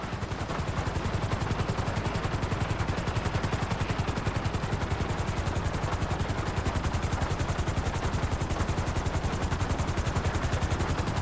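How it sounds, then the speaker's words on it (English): A helicopter in the video game GTA 5 sets down on a helipad, its rotor giving a loud, steady, rapid chop over a dense engine roar for the whole stretch, with no voices. "Bring the helicopter down gently onto the helipad."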